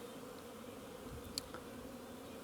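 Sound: honeybees buzzing around the apiary in spring

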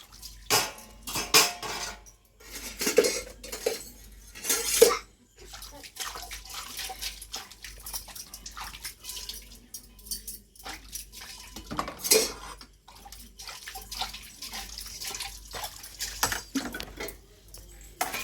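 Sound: washing dishes at sink

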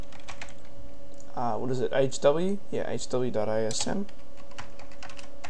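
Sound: typing on a computer keyboard

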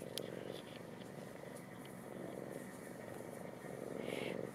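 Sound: cat purring

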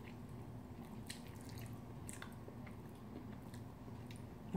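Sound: chewing while eating Jeonju bibimbap

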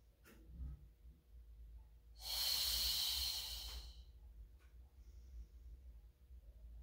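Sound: exhaling during a Pilates mat exercise

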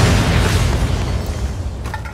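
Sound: grenade explosions in video game Fallout: New Vegas

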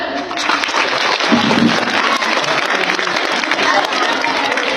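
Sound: audience applause

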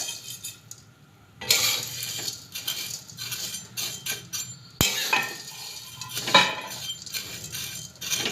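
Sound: roasting vermicelli in a pan

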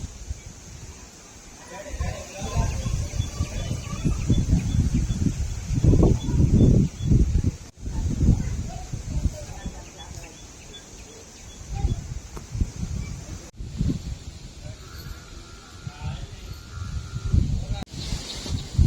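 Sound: strong stormlike wind outdoors

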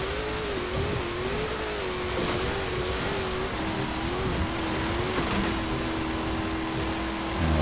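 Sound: cars racing in a drag race, Forza Horizon 4 video game

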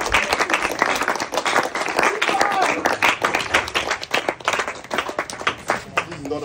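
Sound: round of applause, clapping

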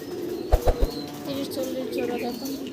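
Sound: pigeons cooing at a pigeon farm

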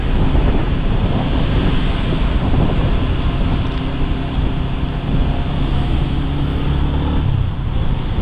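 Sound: strong wind

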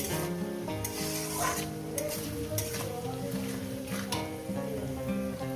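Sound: onion and tomato frying in a pan

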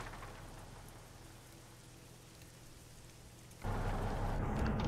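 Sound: rain in a video game

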